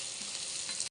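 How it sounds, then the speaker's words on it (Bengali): Dried red chilies frying in a pan for a dried-fish (shutki) dish: a dense, steady close-up sizzle and crackle that runs unbroken for about a second, with no voices. "এইখানে শুটকির জন্য মরিচ ভাজতেছি"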